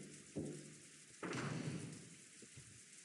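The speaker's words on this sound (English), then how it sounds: "the obnoxious pounding on the rain against the window" Rain pounds against a window in a stormy scene from the visual novel Umineko: heavy, dull thuds and bursts of wash, faint and irregular, with no voices.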